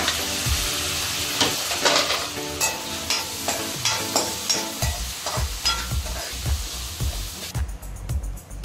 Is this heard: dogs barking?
no